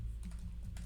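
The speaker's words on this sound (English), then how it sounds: "forgive my typing" Keystrokes clatter on a computer keyboard in a steady run of quick taps, close and fairly quiet over a low background hum.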